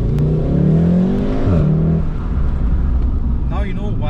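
A car engine revs sharply and then falls away during an aggressive downshift, loud and close inside the car, with a voice talking over it.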